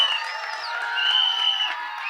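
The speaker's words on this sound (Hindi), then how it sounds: "धनुष सर के लिए एक बार जोरदार तालियां।" A crowd at a Tere Ishk Mein trailer launch event cheers for Dhanush with shrill, high-pitched screams and whoops that rise and fall over a couple of seconds.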